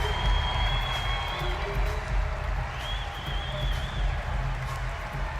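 A packed arena crowd at Bud Walton Arena applauds senior players during an Arkansas vs Alabama basketball game, a steady, dense roar of clapping and cheering that holds for several seconds.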